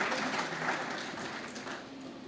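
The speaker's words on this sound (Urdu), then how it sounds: "غزل کا بہت بڑا نام جناب ظفر اقبال صاحب جو یہاں موجود ہیں، ان کے لیے بہت ساری تالیاں" Applause for poet Zafar Iqbal fills an awards hall, a dense, steady wash of clapping from a large audience that slowly fades.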